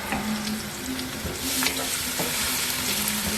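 Prawns sauté in a pan with garlic, chilies and onion, making a close, continuous sizzle broken by a few light clinks and scrapes, with no talking.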